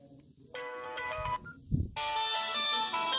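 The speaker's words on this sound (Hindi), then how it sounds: "आपको थोड़ा मोबाइल को पास में लेके आपको सुनाते हैं इसका गाना" A song plays from a small mobile phone through a homemade radio-kit amplifier. The melody is bright and tinny, starting after a short quiet lead-in, pausing briefly, then resuming and continuing steadily without speech.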